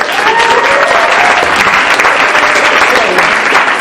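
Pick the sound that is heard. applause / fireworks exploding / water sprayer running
applause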